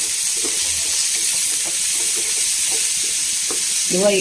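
Two diced onions frying in a pan for a cauliflower masala, giving a steady, close sizzle with a constant hiss throughout and light stirring scrapes over it.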